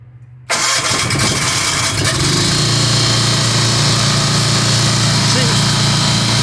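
An Onan Quiet Pack 40 generator engine cranks and fires after a brief quiet moment, then settles into a loud, steady, close running drone with a constant low hum.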